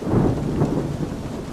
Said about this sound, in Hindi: अचानक बिजली की तेज कड़क के साथ मूसलाधार बारिश होने लगी।